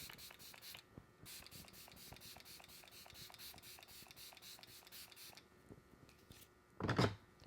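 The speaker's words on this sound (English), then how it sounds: "go on top of it with my L'Oreal Infallible spray to just like seal everything in" Several short hissing bursts of L'Oreal Infallible makeup setting spray, close and fairly quiet, followed by a louder, longer spritz near the end.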